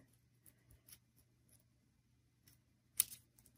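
Scissors cutting a rounded tip into paper for a paper carnation's calyx, a few faint soft snips ending in one sharper close cut, quiet and alone.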